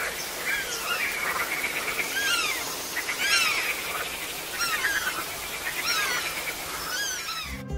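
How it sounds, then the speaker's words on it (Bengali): Evening jungle chorus of many birds calling at once, overlapping chirps and warbles layered over a steady hiss of insects and background noise, dense and continuous with no talking. "সন্ধ্যায় জঙ্গলের শব্দ কেমন হয় তা শুনুন আগে"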